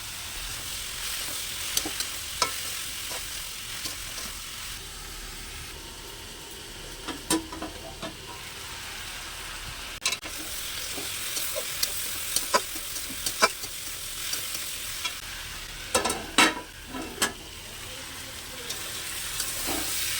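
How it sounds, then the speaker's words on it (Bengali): Mixed vegetables with salt, chilli powder and turmeric sizzle steadily in a hot pan, with occasional sharp clicks and scrapes of stirring breaking through the constant hiss. "ভালো করে সবজিগুলোকে ভাজা হয়ে গেছে।"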